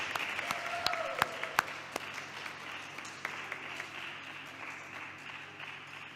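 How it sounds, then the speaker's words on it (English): A seated audience at a conference talk on VitaDAO applauds a speaker, with dense, steady clapping filling the room for several seconds and a few sharper claps standing out early on. "Give a round of applause to Paul, please."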